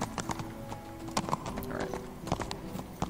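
Horse hooves clip-clop at a brisk, uneven pace in the video game Kingdom Come: Deliverance, close and distinct over faint background game sound.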